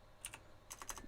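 Keys clatter on a computer keyboard in a quick short burst of a few soft taps, faint and close.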